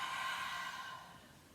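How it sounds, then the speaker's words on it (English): A slow breath pushed out through the mouth during yoga practice, a soft airy hiss that fades gradually over about a second and a half, close and quiet with no talking. "you can inhale and then exhale through your mouth"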